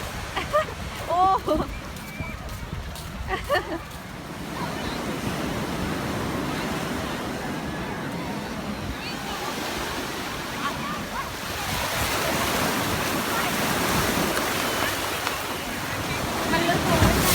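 Sea waves and surf at a beach roll in as a steady, full wash with wind buffeting the microphone, louder toward the end; a person speaks briefly early on.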